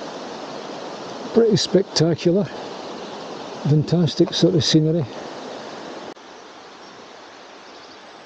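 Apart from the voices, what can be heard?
water running in gorge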